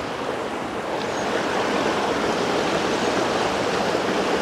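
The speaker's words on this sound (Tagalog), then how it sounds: "At mayroon pang isang napakagandang bagsak ng tubig." A waterfall beside a river roars as a steady, dense rush of falling water, loud and continuous without any talking.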